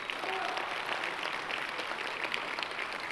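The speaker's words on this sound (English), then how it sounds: "you are actually applauding yourselves" Audience applause at an ALS fundraising luncheon, a steady wash of clapping filling the room throughout, with some voices mixed in.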